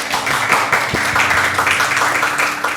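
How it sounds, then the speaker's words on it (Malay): Studio audience applause on a TV show, steady loud clapping from a crowd with distinct sharp claps and a faint low hum beneath. "sila berikan tepukan yang gemuruh kepada anda semua"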